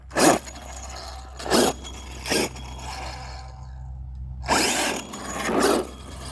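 A 5B RC car with new gears gives several short, loud whirring bursts with the drag brake between them, then a longer surge later, over a quieter steady background hum.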